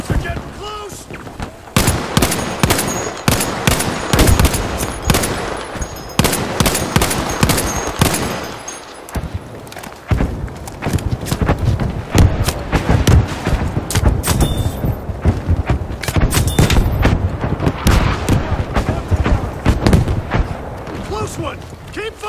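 Dense enemy gunfire in Battlefield 5 during a Solomon Islands Conquest match, with rapid rifle and machine-gun bursts and heavy impacts cracking loud and close, almost without pause, while voices speak now and then.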